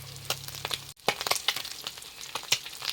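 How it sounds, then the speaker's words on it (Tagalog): Vegetables fry with sardines in a pan, close and crackling, with sharp sizzling pops and stirring scrapes over a steady hiss. "nagprito na tayo"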